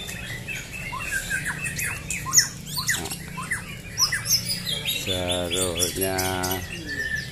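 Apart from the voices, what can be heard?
songbirds singing at a bird contest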